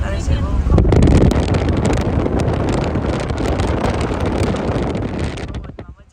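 Wind rushes through an open car window on the Delhi highway in a loud, steady roar that buffets the microphone and dies away sharply at the end.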